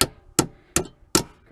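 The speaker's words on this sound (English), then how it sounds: "I'm going to take the hammer and I'm going to start tapping these down." A hammer taps down cut metal on a rocket stove built from a pot, a 6-inch tee and U-bolts, giving five sharp, evenly spaced metallic strikes, close and alone.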